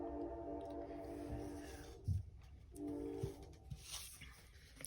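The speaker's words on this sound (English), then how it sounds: "Very loud train today." Loud train passing at a distance, horn tones and rumbling rail noise heard faintly indoors, with intermittent clicks and rustles close by.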